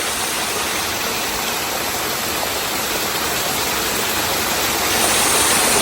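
Steady, dense roar of falling water at Antharaganga Waterfalls near Ramoji Film City, Hyderabad, close and loud throughout with no voices, swelling slightly in the final second.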